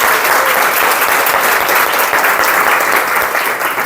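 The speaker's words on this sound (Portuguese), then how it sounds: "Salva de palmas para vocês." Steady, loud audience applause from a crowd at a step-by-step school training session, dense clapping filling the whole stretch without pause or speech.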